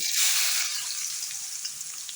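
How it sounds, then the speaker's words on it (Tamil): Onions sizzle in hot oil in a pan, a loud bright hiss near the start that settles into a steady, continuous frying crackle with no one speaking. "வெங்காயமெல்லாம் போட்டாச்சு எண்ணெயில்"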